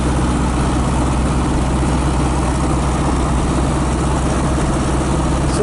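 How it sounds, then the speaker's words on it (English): The air-cooled 1500 engine of a 1969 Volkswagen Beetle drones steadily and loudly from inside the car as it drives in traffic, a continuous rough mechanical hum with no talk. "this little bug with this lively 1500 engine keeps up with traffic really good"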